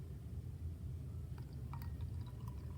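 Water poured into a glass beaker holding sand and a lump of sugar, a steady low splashing pour that runs the whole time without any talking.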